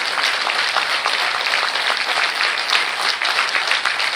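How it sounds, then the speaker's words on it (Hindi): Sustained clapping from a large audience at a state-level Tilu Rauteli women's award event, loud and dense throughout with no pauses. "आपने ताली नहीं मारी है, आप थोड़ा जोर से मारिए।"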